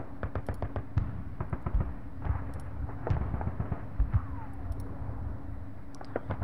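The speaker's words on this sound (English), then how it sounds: "I want to drop as many artillery rounds onto that HQ as possible" Artillery rounds pounding an enemy HQ in the wargame Panzer Campaigns Sicily 43, heard as a dense run of sharp booms and cracks, some close and heavy, others lighter, with no pauses over a low rumbling bed.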